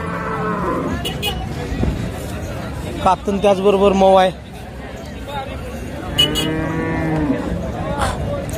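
A cow moos several times, loud and close, at a cattle market in Sangola amid a busy crowd of people chattering, with someone speaking over the noise.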